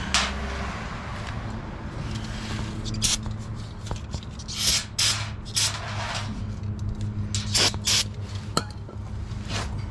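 Brake cleaner sprayed onto parts while servicing a 2005 Scion xA/xB (Toyota Yaris), heard as several short hissing bursts in an irregular rhythm over a low steady hum, close to the microphone.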